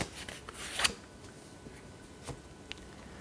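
Soul message cards being shuffled and drawn, a short burst of riffling card rustle near the start followed by a few faint soft flicks and taps in a quiet room.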